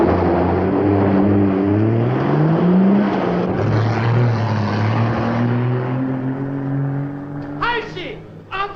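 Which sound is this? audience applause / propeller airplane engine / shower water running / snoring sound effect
propeller airplane engine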